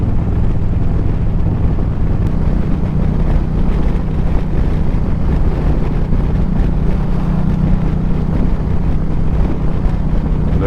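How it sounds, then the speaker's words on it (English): An Indian Challenger motorcycle fitted with 530 cams accelerating in fourth gear onto a freeway, a loud steady engine drone buried under heavy constant wind roar with no break. "Coming on the freeway here, 4th gear, just got that power, ready to go."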